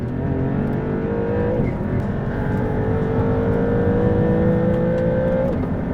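A Maserati MC20 GT2 Stradale engine accelerates hard on a race track, a loud, close, sustained roar climbing in pitch, with two quick gearshift dips before it pulls upward again.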